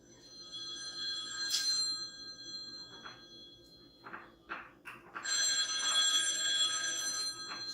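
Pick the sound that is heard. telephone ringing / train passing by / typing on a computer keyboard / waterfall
telephone ringing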